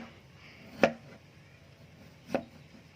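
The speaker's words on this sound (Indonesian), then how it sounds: "kita rajah kecil-kecil seperti ini" White turmeric being chopped on a cutting board, two sharp, distinct knife knocks about a second and a half apart against a quiet background.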